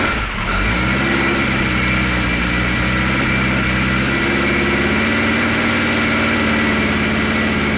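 A Kawasaki Z1 motorcycle engine starts with the choke on and settles into a loud, steady idle right next to the listener. The rumble holds continuously, with no speech.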